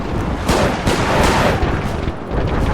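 Artillery shells pound a battlefield in a Mount & Blade Warband mod, a rapid run of heavy booming blasts and gunfire, loud and close, several impacts following one after another without pause.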